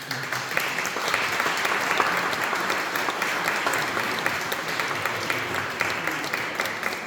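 A full audience claps warmly and steadily after a French talk on disability, a thick, even wash of applause sustained throughout with no voices over it.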